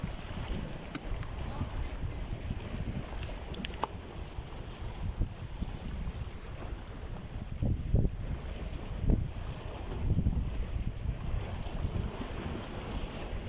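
Steady wind rushing across the microphone over a continuous wash of sea waves on the coast at Busaiteen, Bahrain, with occasional louder swells; no one speaks.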